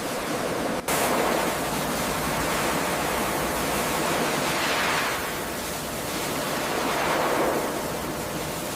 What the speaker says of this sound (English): Wash everything down, using pressure to strip away years of dirt and reveal what's still underneath.